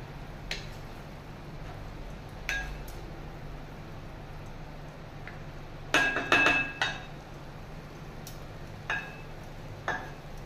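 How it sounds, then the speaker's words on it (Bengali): A metal lid comes off a pot of cooked daliya pulao with a few light clinks and scrapes: a short cluster of metallic taps in the middle, then scattered single clinks, all quiet over a steady low hum. "এবার ঢাকা খুলে দেখি, এটা আমার হয়ে গেছে ডালিয়ার পোলাও"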